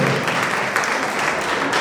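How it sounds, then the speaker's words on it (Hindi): An audience at a Digambar Jain temple gathering in Mansarovar, Jaipur breaks into enthusiastic applause, a dense wash of clapping heard briefly and evenly. "बहुत साथ जोरदार तालियां"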